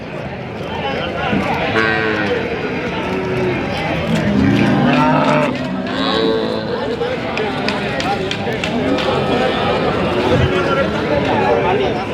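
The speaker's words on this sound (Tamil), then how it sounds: "இந்த செட்டுக்குள்ளே எல்லாம் மாடுகள் வாங்கி கட்டியிருப்பாங்க" Cattle, including Kangeyam breed animals, moo repeatedly at a busy Saturday livestock market in Kundadam, Tiruppur, with overlapping calls near and far under a constant crowd din and people talking.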